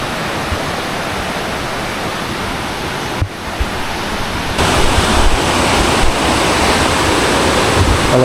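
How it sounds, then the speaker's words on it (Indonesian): A fast-flowing mountain river on the slopes of Mount Wilis rushes loudly and continuously, a dense unbroken roar of churning water close by with no voices. "Kalau dilihat dari sini tuh sungainya semakin deres ya."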